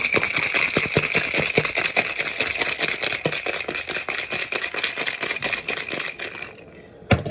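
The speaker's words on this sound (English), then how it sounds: "Cover it, shake it up." A covered cocktail shaker holding a martini with vermouth is shaken hard and fast, giving a dense, continuous rattle of ice for about six seconds, then stopping with a final clack.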